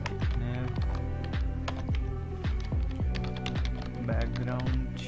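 Fingers tap out CSS code on a computer keyboard, a quick irregular run of close, crisp keystrokes continuing throughout.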